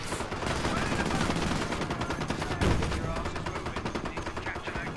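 Battle gunfire in the World War II strategy game Company of Heroes, with dense, rapid cracks of rifle and machine-gun fire in continuous bursts and a heavier thud midway, loud and close, with someone talking over it.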